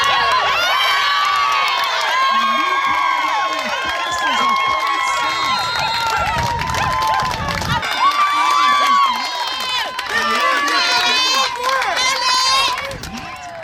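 A home island crowd at a volleyball match between Team NMI and New Caledonia cheers, whoops and shouts loudly through the final set, with a voice talking over the steady roar.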